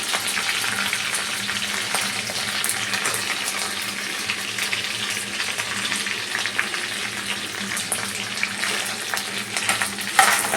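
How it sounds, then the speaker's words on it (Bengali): Already-fried potatoes sizzling in a pan of oil, a steady, dense crackle that holds at an even level throughout with faint clinks, and no voices. "পরে আমি আলুগুলো দিয়ে দেবো"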